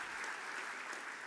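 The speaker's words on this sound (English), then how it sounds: "give them a round of applause if I can tonight" Steady, full round of audience applause fills a banquet hall at the Wildcats MVP Ball 2024, dense and continuous throughout with no talking.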